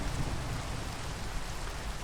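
Rainfall in Minecraft during a casual survival world, a steady, even hiss of falling rain that fills the whole stretch at moderate level, with no voices and no distinct thunder.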